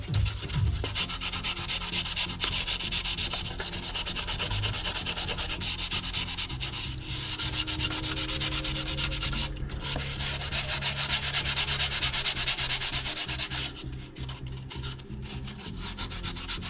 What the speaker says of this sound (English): Point sanding's not doing fuck all to the surface